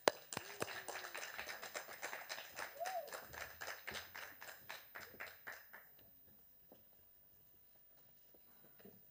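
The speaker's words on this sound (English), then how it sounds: "So, ladies and gentlemen, with a round of applause, let's welcome Bashe." Applause from an audience at a reproductive justice litigation forum, a patter of claps at moderate volume that fades away to near silence after several seconds.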